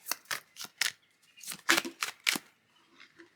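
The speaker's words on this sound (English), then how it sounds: "I might shuffle this way." Tarot cards being shuffled by hand produce a series of crisp, close riffling and slapping bursts in an irregular rhythm, with brief pauses between them.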